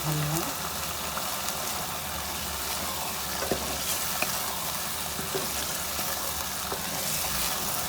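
Beef karahi gosht sizzles steadily in a pan as it is stirred with ground garam masala, a continuous close frying hiss with faint scrapes throughout.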